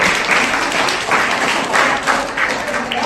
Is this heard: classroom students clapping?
yes